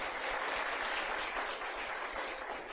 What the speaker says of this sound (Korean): 격려와 축복의 박수를 하도록 하겠습니다